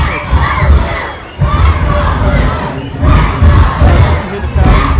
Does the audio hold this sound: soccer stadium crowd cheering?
yes